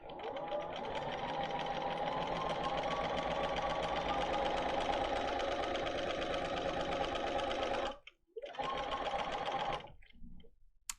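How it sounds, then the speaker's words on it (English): Sewing machine running steadily as it stitches fabric for a quilt workshop, a close, fast, continuous mechanical whir that stops abruptly near the end, briefly restarts, then falls quiet. "We're going to start sewing."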